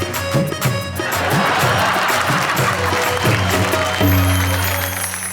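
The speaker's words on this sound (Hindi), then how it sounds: "इनके लिए ताली बजा दो" Audience applause at a Hindi comedy poetry stage show, a steady wash of clapping sustained throughout under music.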